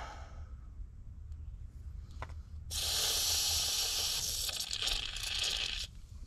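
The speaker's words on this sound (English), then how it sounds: "let's get some lube in there now" Lubricant sprays into a Detroit Diesel 271 generator engine, a broad hissing burst of about three seconds preceded by faint scraping, close and fairly quiet.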